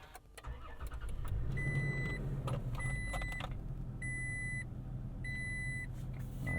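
A 2022 Toyota Tacoma TRD Off-Road cranks and fires up, settling into a steady idle heard from the cabin, with repeated electronic chime beeps sounding over the engine.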